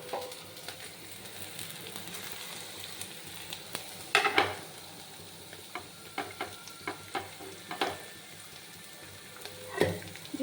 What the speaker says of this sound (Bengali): দেখো আলুটা প্রায় ভাজা ভাজা হয়ে এসছে, এবার আমি গাজরটা এটা দিয়ে দেবো